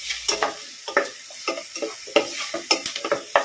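Onions softening in a hot pan for an okra milk curry, with a spoon repeatedly scraping and stirring through the sizzle in uneven close strokes. No one speaks.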